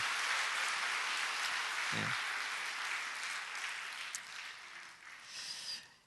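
A broad, hissing wash of clapping from a church congregation at a send-off service, fairly steady and then tapering off toward the end.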